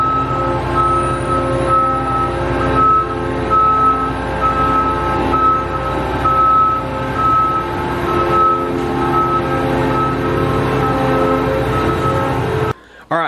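A combine harvester being moved into a shop sounds a steady run of loud reversing beeps over a continuous engine drone, close and constant until it cuts off near the end.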